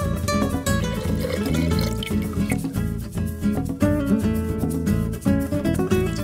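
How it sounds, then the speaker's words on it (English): Water pours steadily into a container of lime juice, splashing and gurgling with a bubbling, fluctuating texture as it fills. "and finally the water."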